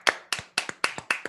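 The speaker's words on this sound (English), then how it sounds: "Everyone give them a round of applause to get them going." About five sharp handclaps land in an even, steady rhythm roughly a quarter second apart, close and crisp, each with a small softer echo clap after it, during an online Sunday service.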